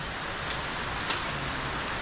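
Storm rain falling on a roofing job site, a steady dense hiss of rain on surfaces, continuous and fairly faint with no voices.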